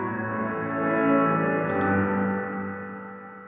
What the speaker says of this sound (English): So this sets the reverb type and, how the reverb tail sounds